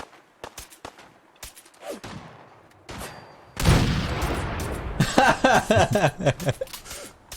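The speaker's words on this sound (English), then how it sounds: "you just fire this gun and then you giggle, right?" Gunfire in the video game Fallout 4, opening with scattered single shots and sharp reports, then a dense, loud burst of rapid automatic fire that ends in a chattering volley, with no talk.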